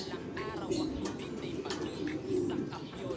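Pigeons cooing inside a racing pigeon loft, a steady low murmur of overlapping coos with occasional wing flutters and chirps, fairly close, faint talk in the background.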